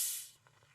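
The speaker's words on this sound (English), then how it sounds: "Now I wonder what would happen if I fizz the lemonade up a little bit and then open it." A shaken bottle of lemonade releases a sharp, loud hiss of escaping gas as the cap comes off, quickly fading into faint fizzing bubbles, close by and alone.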